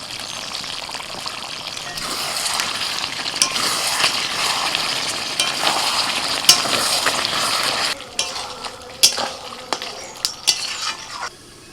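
Capsicum going into chicken frying with chopped tomato in a pan gives a steady loud sizzle, with scraping stirs and sharp clinks of a utensil against the pan near the end.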